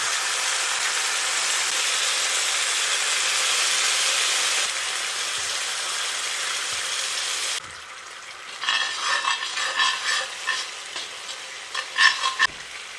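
Loud, continuous sizzling of fried chicken leg pieces in a hot pan with chilli, tomato and soy sauces, dropping in level, then scraping and stirring sounds with irregular knocks of a utensil against the pan.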